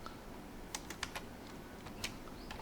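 Computer keyboard keys tapped while entering a command in Cisco Packet Tracer, a handful of quick, light clicks in an irregular rhythm, close and fairly quiet against a faint hiss, with no talking.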